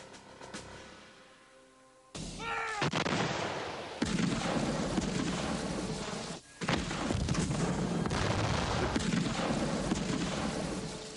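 Musket gunfire from colonial militia in the opening battles of the American Revolutionary War at Lexington and Concord: dense, overlapping volleys of shots and booms that begin abruptly after a quiet start and continue loudly throughout.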